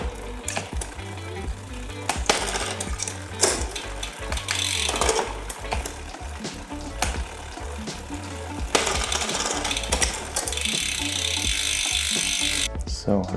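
A road bike in a workshop stand being pedaled while its gears shift, with a steady mechanical whir and freewheel ratchet ticking, plus clicks and clunks as the derailleur moves the chain.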